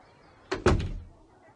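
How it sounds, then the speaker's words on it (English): A door shuts with a quick double thud, close and fairly sharp, followed by a short fading rumble in an otherwise quiet space. "And the woman closed the door."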